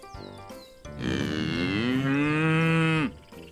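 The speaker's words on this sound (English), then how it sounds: "A cow." A cow moos loudly in one long, drawn-out low call lasting about two seconds, heard close and on its own.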